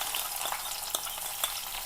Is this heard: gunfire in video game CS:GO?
no